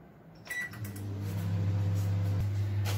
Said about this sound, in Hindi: इधर हम माइक्रोवेव में कन्वेक्शन मोड ऑन करके 180 डिग्री सेल्सियस पर 10 मिनट के लिए प्री हीट होने के लिए रख देंगे